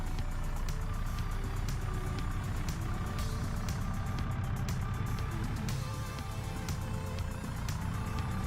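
A tractor in Farming Simulator 22 reverses into place on an Iowa farm map, with a steady rhythmic reversing beep over a constant low engine drone, close and loud throughout.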